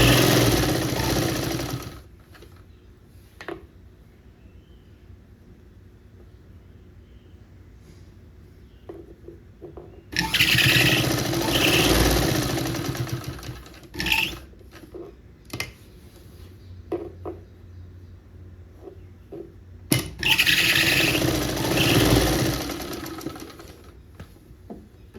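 Sewing machine stitching a folded blouse collar from the reverse side, running in three distinct bursts of steady whirring and clatter separated by quieter pauses with light handling noises.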